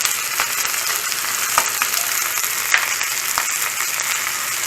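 Garlic sizzles steadily in a hot pan while pork humba is being cooked, a dense continuous frying hiss with a few faint clinks of a utensil against the pan, close and with no talking.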